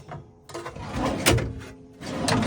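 Caravan drawers in a Crawler BATU 535i slide and knock shut in a quick series of close clunks and rattling runner noises, with no speech over them.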